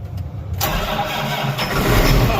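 Unplugged farm tractor engine cranking and catching on a cold tillage day, a short starter whir followed by the engine firing into a loud, close, rough idle that builds slightly in rumble.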